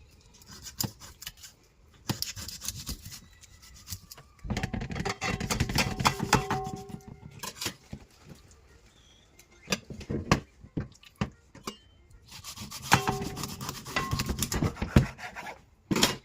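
A knife cuts through raw chicken during cleaning, making close, crisp bursts of snipping and scraping against a board. Two longer stretches of cutting are separated by quieter pauses and scattered clicks.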